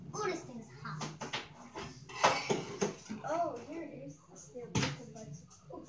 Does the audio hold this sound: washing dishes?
yes